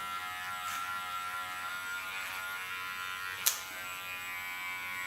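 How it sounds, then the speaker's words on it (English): Electric hair clipper running steadily in a clipper-over-comb haircut, a continuous close buzzing hum with one brief sharp snip or click partway through. "what I did clipper over comb"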